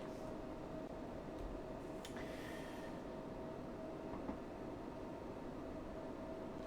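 A train in the Train Sim World 6 video game, running the Glasgow to Edinburgh Waverley route and resembling a Merseyrail unit, gives a steady, low, continuous rumble with a faint hum and occasional light rail clicks.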